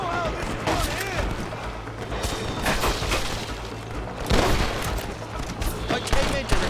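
Rapid gunfire crackles through a chaotic Red Dead Redemption firefight, with irregular bursts of close shots and heavy booms while voices speak over the shooting.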